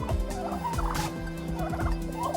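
Poultry turned out onto green grass on a sunny day call nearby, with a turkey gobbling in short rattling bursts amid clucking fowl, fairly close and lively.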